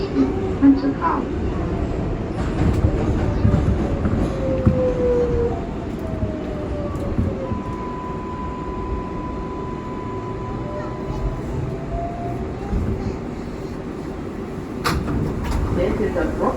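An R142A 6 local subway train rumbles steadily along the track, a loud continuous roar with tonal whines rising and falling through the ride and a few sharp knocks near the end.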